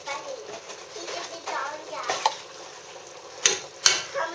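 A knife scrapes tomato paste out of a can for a lasagna, making soft, uneven scraping under quiet background voices, ending with two sharp metallic clicks.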